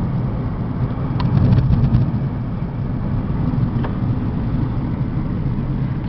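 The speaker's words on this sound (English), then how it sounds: "It's a nice running little car." A 2002 Chevy Cavalier running on CNG drives along the road, its engine a steady low hum with road rumble throughout, fairly even in level and without voices.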